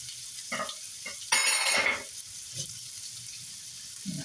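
Raw corn and carrots cook in a pan for shrimp fried rice, with a brief burst of sizzling and light clinks of a utensil scraping and stirring against the pan.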